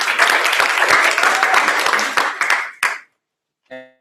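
A seated audience at a student association talk in Leeds breaks into applause for the association chair, dense clapping that thins into a few scattered claps and stops, followed by a brief voice.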